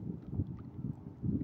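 A motorboat passes on a river where people are out fishing, its low droning engine rumble swelling and fading in waves against wind noise, with no talking.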